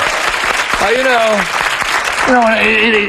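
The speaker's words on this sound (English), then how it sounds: "A round of applause." Studio audience applauding on a television talk show, a steady wash of clapping running under people talking and laughing, with an exclamation rising over the crowd twice.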